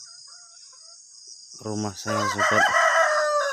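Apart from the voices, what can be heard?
rooster crowing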